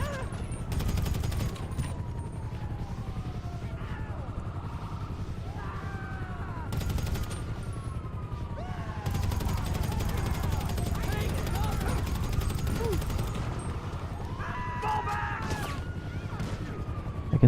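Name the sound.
rapid gunfire in GTA V video game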